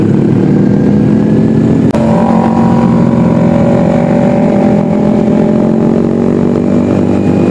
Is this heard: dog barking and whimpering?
no